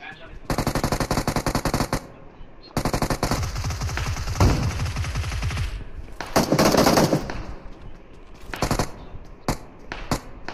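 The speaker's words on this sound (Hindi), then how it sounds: "अब रिटेलिएशन फायर देगा।" Retaliation gunfire in BGMI: loud, rapid automatic bursts rattle in several separate volleys with short gaps between them, mixed with some nearby voices.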